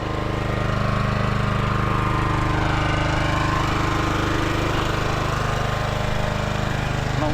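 A towing machine's engine warms up, a loud, steady, unbroken mechanical roar with a low knocking rumble, holding close and constant throughout.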